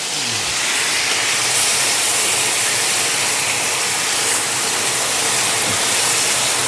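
Sauce hits a hot pan of stir-frying beef and peppers, giving a loud, steady broadband sizzle and hiss that fills the whole stretch evenly, with no talk over it.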